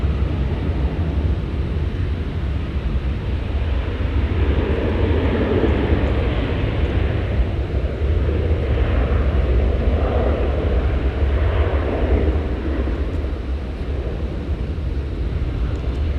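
Steady, loud roar of a jet airliner at Dallas Fort Worth airport, engine noise sustained throughout with a broad rumble and gusty wind buffeting the microphone.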